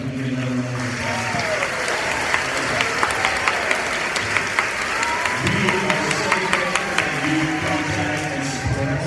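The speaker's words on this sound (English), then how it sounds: "I'd like to give you another round of applause." Sustained audience applause fills a high school Christmas concert hall, a steady dense wash of many hands clapping with scattered louder claps, fairly close and continuous without a break.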